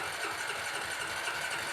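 A freshly rebuilt ATV engine runs steadily at idle inside a shop, a loud, continuous close-up drone with no pauses.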